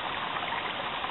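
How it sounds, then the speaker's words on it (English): A small creek at the outlet of Mud Lake, beside an Adirondack hiking trail, flows in a brief, steady rushing burble, close and even. "Right at this little creek."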